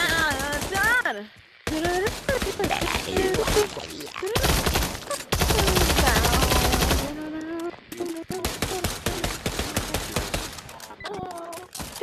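Gunfire in the VR game Pavlov comes in rapid automatic bursts broken by short pauses, with people talking over and between the shots.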